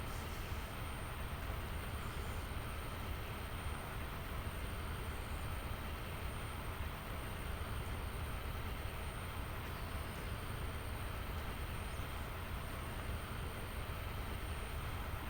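Train running on high-speed tracks in Train Simulator Classic, a steady broadband rumble and hiss of wheels on rail that stays even and continuous throughout, moderately quiet and without voices.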